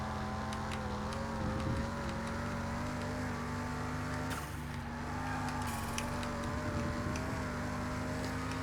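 Race car engine droning steadily through a lap in a car mechanic video game, a constant buzzing hum with slight pitch shifts as it drives, moderate and unbroken with no talk.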